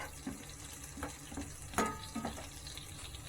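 Garlic cloves frying in oil in a pan for a Tamil banana-flower fish curry, a quiet steady sizzle with a few soft stirring knocks and clinks, no talking.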